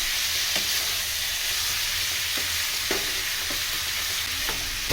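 Mutton curry is stirred in a frying pan: a steady, close sizzle of frying with soft scraping strokes of the spoon every second or so, and no talk.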